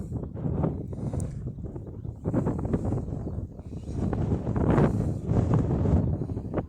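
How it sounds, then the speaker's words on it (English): Strong wind buffets an outdoor microphone on a gusty day at a plane-spotting spot, producing a continuous loud low rumble that swells and dips throughout with no other clear sounds. "Flipping windy to film videos like that today."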